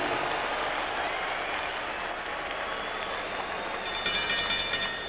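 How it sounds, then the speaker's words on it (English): Arena crowd at a heavyweight championship boxing event in Atlanta breaks into applause, a broad steady roar of clapping that swells briefly near the end, heard from within the venue. "a round of applause and a wish for speedy recovery to the Paz"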